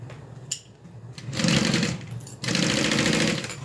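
Sewing machine stitching a heavy quarter-inch seam allowance around curves on a modified Char Char pattern, in two loud steady bursts of rapid whirring stitching separated by a short pause, with no talking.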